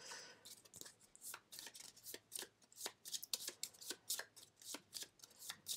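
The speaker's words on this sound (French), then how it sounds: "Mélangez les cartes région, donc les cartes au dos vert" Green-backed region cards from the board game Le Roi est Mort being shuffled by hand: quiet, close riffling with a steady run of crisp card flicks and snaps.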